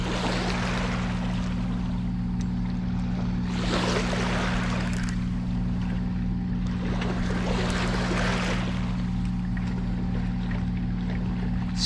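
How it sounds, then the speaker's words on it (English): A hooked catfish thrashes and slaps at the surface, throwing bursts of whitewater in two or three broad surges over a steady low boat-engine drone. "he's beaver tailing out there, giving us some whitewater action"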